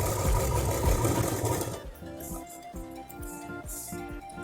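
Sewing machine stitching a cloth purse made from a leftover blouse piece: a fast, dense whir of stitching for about two seconds, then stops, leaving light clicks and handling sounds.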